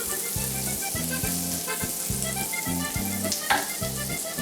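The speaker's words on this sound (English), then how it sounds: "We're gonna start off by taking a knob of butter and melting it down so that it is liquid and melty" A knob of butter melts and sizzles in a pan, a steady close frying hiss with a low rhythmic hum running underneath, broken once by a brief sharper crackle.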